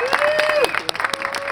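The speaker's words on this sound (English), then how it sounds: "Give her a round of applause." Applause from an audience at an outdoor Memorial Day remembrance ceremony, a short burst of clapping with a sustained tone running under it early on, then fading into scattered claps.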